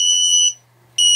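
A GoFlyRC drone finder beeper sounds a loud, shrill, piercing electronic alarm tone, cutting off briefly and then resuming, close up with no talking.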